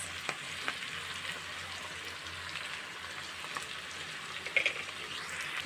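Carrots and green chillies frying in a pan for chicken rolls: a steady, close crackling sizzle with light stirring scrapes and a few sharper pops near the end, no talking.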